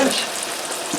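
Flounder fillet frying in a pan, a steady broadband sizzle of hot oil holding loud and even from start to finish, with a faint soft knock near the end.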